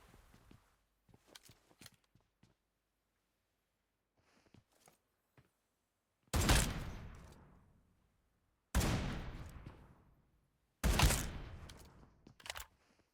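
Gunfire in the mobile battle royale game PUBG Mobile: after scattered faint footsteps and small clicks, three loud, close bursts of shots ring out, each decaying over about two seconds, with no talking.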